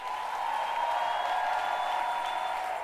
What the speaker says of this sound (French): est-ce que quelqu'un peut lui donner des ovations d'acclamation?